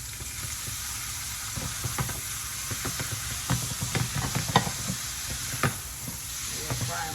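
Noodles and sausage fry in peanut oil with a steady, close sizzle, broken by intermittent scrapes and clicks of stirring.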